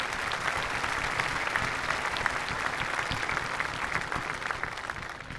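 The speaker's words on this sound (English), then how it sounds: "So I ask that we have one more round of applause for our incredible, incredible teachers." A graduation crowd applauds its teachers in sustained, dense clapping that stays loud and even from start to finish, with no speech over it.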